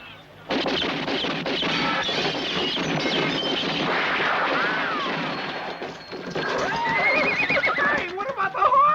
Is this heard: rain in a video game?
no